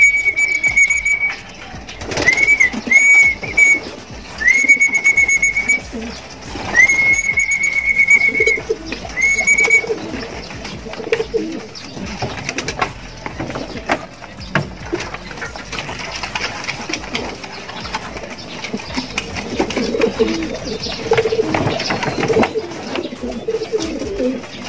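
Racing pigeons coo and flutter nearby at their loft amid a steady backdrop of clattering and shuffling, with repeated high whistling tones in the first several seconds.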